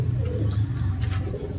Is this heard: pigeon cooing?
yes